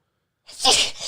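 One sharp human sneeze bursts out close and loud, a quick intake followed by a forceful breathy explosion, heard alone.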